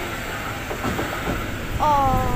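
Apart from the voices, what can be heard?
old S-Bahn commuter train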